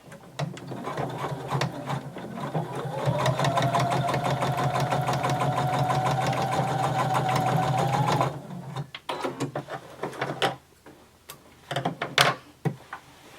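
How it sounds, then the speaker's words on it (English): A sewing machine stitches and backstitches up a denim fly front, running steadily for several seconds in a sustained rhythmic whir, then stopping, followed by quieter handling noises and a few clicks. "we're going to sew and backstitch all the way up"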